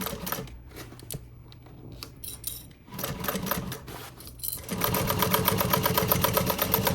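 A sewing machine stitching a tote bag seam, starting with short stop-and-start bursts of backstitching, then settling into a steady, loud, rapid mechanical whir in the final seconds, close by and without talk.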